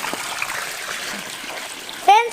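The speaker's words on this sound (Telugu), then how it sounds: "చూడండి మా బోర్ అయితే నడుస్తుంది" A borewell pump runs on a rooftop, water pouring steadily into a swimming tub with a continuous splashing rush, while someone talks over it.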